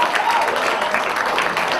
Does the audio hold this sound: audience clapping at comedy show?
yes